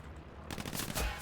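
Rapid gunfire bursts out in the World War II shooter Hell Let Loose, loud and close, a dense automatic volley crackling without pause after a short quieter lead-in.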